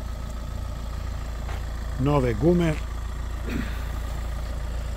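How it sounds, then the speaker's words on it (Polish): A 2019 Renault Scenic with a 1.7 dCi diesel engine and EDC automatic gearbox idles with a steady, low, even purr, while someone talks briefly over it. "motor, evo može da se i čuje, prede"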